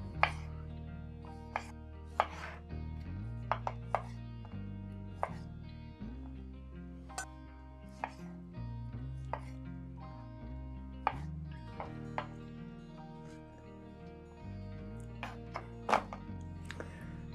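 Vegetables for a Greek salad are cut into large pieces with a knife, the sharp thuds of the blade on a cutting board coming at an irregular pace against a quiet room background.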